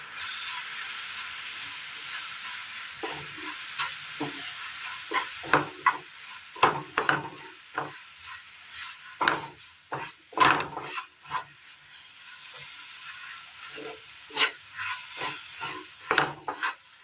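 A jaggery, banana and rice flour mixture is stirred in a pan, with irregular scraping and thudding strokes of the spoon over a faint steady hiss.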